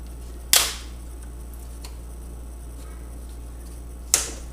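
Plastic screen bezel of a Samsung ATIV Book 4 (NP470RSE) laptop snapping loose as it is pried off: two sharp, close cracks, one early and one near the end, separated by quiet.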